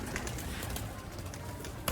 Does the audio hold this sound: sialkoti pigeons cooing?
yes